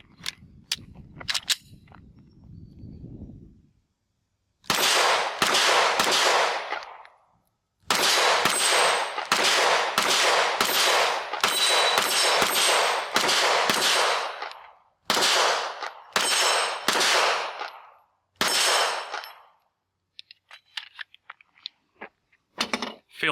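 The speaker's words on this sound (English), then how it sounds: "let's put on the earphones and shoot a couple rounds for this" A Springfield Armory Echelon 9mm pistol fires at a shooting range with a 17-round magazine, giving loud, sharp reports in irregular strings of single shots and quick doubles, separated by short pauses of silence.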